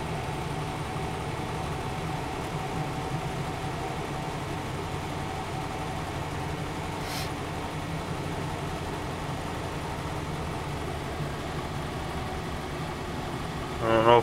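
A 1977 Chrysler Cordoba engine runs at a fast idle just after a cold start, a steady, continuous rumble that holds even throughout, with a brief louder burst at the very end.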